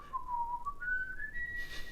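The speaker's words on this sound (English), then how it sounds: "I'm going to do the whistling." A single person whistles a slow, rising melodic line, clear and close, with no talking.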